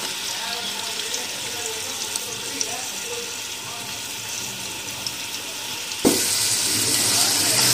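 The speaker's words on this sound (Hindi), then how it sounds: "इसमें 3 मीडियम साइज की प्याज है वो डाल देंगे।" Three medium onions dropped into about two cups of hot oil for palak gosht, bursting into a sudden loud, steady sizzle after a quieter stretch of kitchen background noise.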